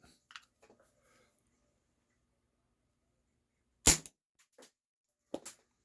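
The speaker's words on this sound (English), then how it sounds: "Next up, the Beretta Model 92A1 steel BBs, up to 310 feet per second." A Beretta Model 92A1 air pistol firing steel BBs, heard as two sharp, isolated snapping shots several seconds apart, each followed by small faint clicks, in an otherwise quiet setting with no talking.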